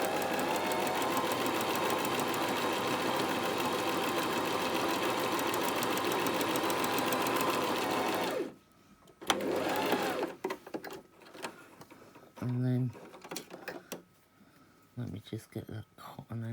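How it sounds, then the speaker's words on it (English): A sewing machine, worked by a foot pedal, stitches patchwork fabric scraps in a steady, loud whirring run for about eight seconds, then stops; afterward come handling noises, short bursts and brief speech. "I've just got to find my foot on the foot pedal and turn the machine on"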